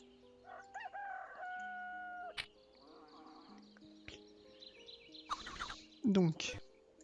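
A rooster-like bird crows in the point-and-click game Goblins 2, stretched crowing calls mixed with clucks and game sound effects, with a person talking over it.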